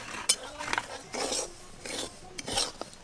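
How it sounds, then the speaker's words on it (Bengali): A utensil scrapes and stirs dry semolina in a dry pan without oil or ghee, with intermittent soft rasping strokes and light metallic clinks, fairly quiet. "সুজিগুলো শুকনো কড়াতে একটু ভালো করে ভেজে নেব।"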